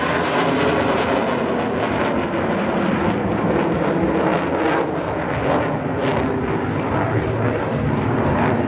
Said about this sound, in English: It's the Canadian Air Force F-18.